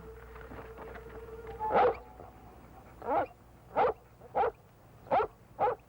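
A dog whimpers faintly at first, then gives a series of five or six sharp barks spaced about a second apart, fairly close and standing alone against a quiet background.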